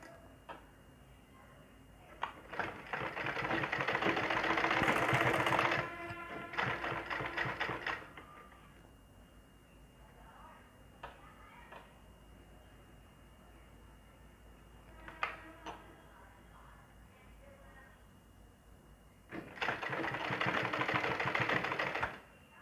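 A sewing machine stitches the sleeve of a ladies suit, running in a long steady burst, a shorter burst, and then another sustained run after a quiet pause. The whirring is close and fairly loud.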